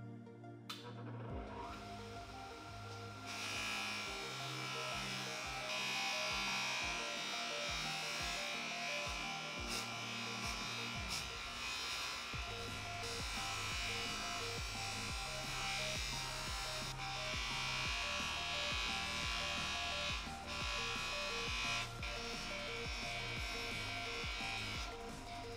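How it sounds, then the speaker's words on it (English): A loose buffing wheel with white rouge polishing a carburetor, giving a steady whirring motor hum with shifting tone as the part is pressed against the spinning wheel, continuous and close, with no talk. "that will involve using a loose style wheel along with a white rouge"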